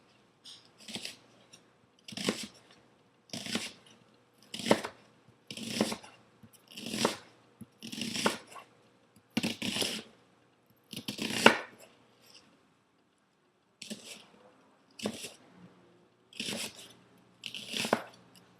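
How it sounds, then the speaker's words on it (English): A knife slices an onion into julienne strips on a board, giving about fourteen crisp, evenly spaced chops, quiet and close, with short gaps and no talking. "we're going to take and cut along the lines of the onion"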